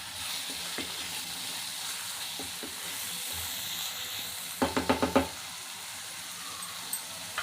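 Raw prawn curry fries in oil in a pan, a steady close sizzle and hiss, with a quick run of clinking stirs from a spoon in the middle and a few lighter taps later.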